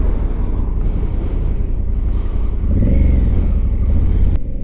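A 2020 Honda Africa Twin 1100 motorcycle on the move gives a loud, close engine rumble mixed with wind roar. It swells for a moment partway through, then cuts off abruptly near the end.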